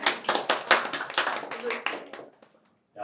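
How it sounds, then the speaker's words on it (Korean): A classroom of students claps for about two and a half seconds, a brisk, close burst of hand claps that fades into silence before a voice begins speaking. "박수. 자, 박수."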